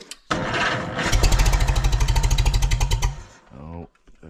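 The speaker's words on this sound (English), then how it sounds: "Fire up the old Farmall." An old Farmall tractor engine cranks and catches, settling into a loud, fast rhythmic chug for about two seconds before cutting off, with a voice and rustling noise near the start and end.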